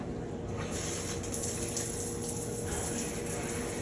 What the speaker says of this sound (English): here I'm turning the stops back on to test, make sure everything's working before I put the trim back on